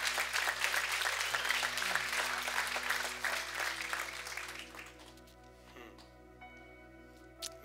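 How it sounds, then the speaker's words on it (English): A church congregation gives a burst of hand clapping that stays full for about four seconds, then fades out and leaves a quiet room with faint background sound. "Can we give the Lord a hand clap for that?"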